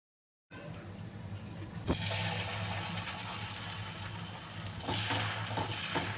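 Rava dosa batter hits a hot tawa and a sizzle starts suddenly after a moment of silence. It crackles and hisses steadily, swelling a little toward the end, with no talk.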